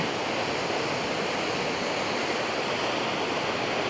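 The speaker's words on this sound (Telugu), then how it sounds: "బాగుంది చూడండి, వాటర్ ఫ్లో కూడా ఎంత ఎక్కువ ఉంది" A waterfall in Valparai with a strong flow roars in a dense, constant rush of water close by, unbroken throughout with no voices.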